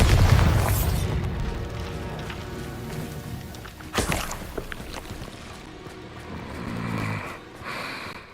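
A Bombarda explosion spell in Hogwarts Legacy goes off as a sharp blast around the midpoint, amid the game's ongoing rumbling effects and ambient score.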